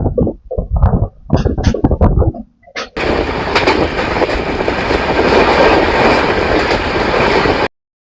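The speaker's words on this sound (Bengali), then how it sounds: "আমাদের কোচ M1 ছেড়ে দিল আমাদের ট্রেন টাটা শিয়ালদা স্টেশন।" The Kolkata–Balurghat Express rolls along with a loud, steady rumble and rattle of coaches on the rails. It follows a few seconds of other sharp sounds and then cuts off abruptly.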